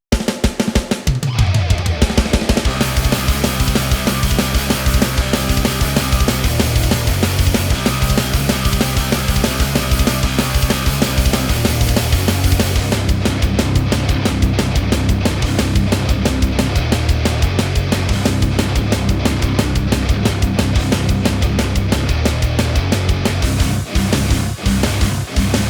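Hardcore metal song built on the MDL Tone Ultimate Heavy Drums sample kit with no extra processing, dense distorted guitars and pounding kit running loud and continuous throughout, with heavier cymbal wash entering midway.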